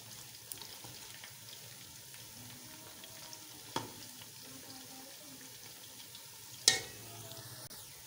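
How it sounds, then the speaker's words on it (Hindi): Beef kababs frying quietly in a pan make a soft, steady sizzle, broken by a few sharp clicks and one louder clatter of a utensil near the end. "अभी थोड़ी देर इनको करते हैं फ्राई"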